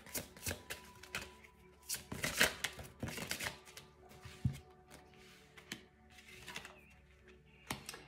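Tarot-style cards are shuffled close up in quiet bursts of riffling and light slaps, with several sharper flicks and taps at an uneven pace and no voice over them.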